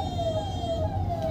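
Ambulance siren stuck in traffic: a loud, continuous wailing tone holding near-steady pitch throughout, up close with a low rumble of traffic underneath.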